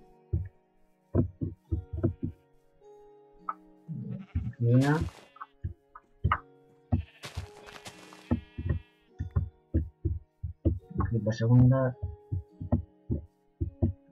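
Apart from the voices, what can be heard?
sheep bleating in a modded video game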